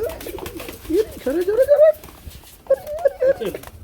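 Running pigeons at a pigeon market give repeated soft, throaty coos in short bursts, heard close and mixed with voices talking nearby.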